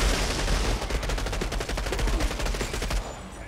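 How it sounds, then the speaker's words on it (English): Rapid gunfire in the shooter game Outriders during a sniper encounter, a dense run of sharp repeated shots with steady rhythm, loud and unbroken with no talking. "Oh crap, there is a sniper."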